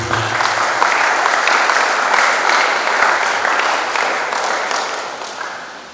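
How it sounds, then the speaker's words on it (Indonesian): A crowd applauds at a high school graduation ceremony at SMA Stella Maris in North Jakarta: dense, sustained clapping that fills the room and gradually tapers off toward the end. "Kita berikan aplaus kepada Bapak Ibu."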